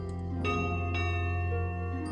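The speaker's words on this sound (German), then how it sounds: "Klickt auf die Glocke, um euren Zug zu beenden." In the Hanse trading video game, a bell is clicked to end the turn, ringing out as a sustained metallic chime with a couple of fresh strikes layered over a lingering, resonant hum.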